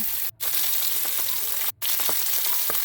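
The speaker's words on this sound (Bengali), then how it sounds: "এরপরে তেলটা গরম হয়ে গেছে, একে একে মাছগুলো দিয়ে দিচ্ছি।" Fish frying in hot mustard oil in a wok gives a loud, steady hiss and crackle, broken twice by brief pauses.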